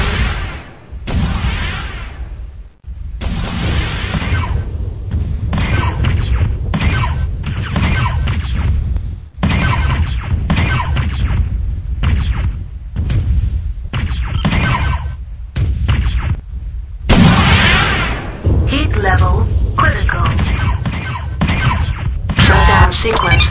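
Weapons firing from mechs in a Netmech video game, with an enemy mech exploding: repeated loud bursts, whooshes and booms across a long stretch, cut by brief silences, with synthetic cockpit voice announcements in between.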